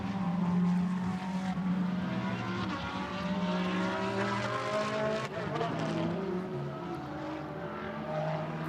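Ferrari GT race cars during qualifying at the Barcelona circuit in a Blancpain GT Sports Club session, engines droning loudly and steadily with shifting pitch as cars pass, a commentator talking over the noise.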